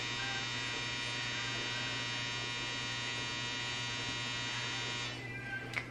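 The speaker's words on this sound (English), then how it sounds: "my dryer keeps going off" A clothes dryer's end signal sounds as a loud, steady electric buzz with a droning hum underneath. It holds for about five seconds, then cuts off.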